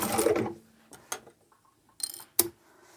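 A sewing machine back stitches a scrap-fabric zippered tablet pouch, making short mechanical whirring bursts and sharp clicks separated by pauses, close and clear with no talk.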